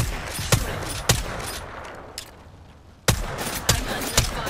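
Gunfire in an Apex Legends horde-mode match: sharp, loud single shots spaced irregularly over a steady roar of battle noise, a brief lull in the middle, then three more cracks close together.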